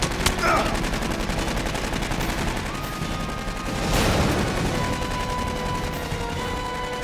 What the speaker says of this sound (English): That APC is gonna just drive around, keep shooting at us as long as it can.